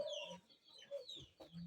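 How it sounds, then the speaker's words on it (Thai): A chicken clucks in a rural garden setting in the evening, giving several short, uneven clucks with a few higher calls mixed in. The sound is faint and somewhat distant, with no talking. "ไก่"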